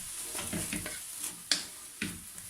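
Minced beef samosa filling with paprika and turmeric being stirred in a pan: soft scraping strokes over a low sizzle, punctuated by two sharp utensil clinks against the pan, with no voices.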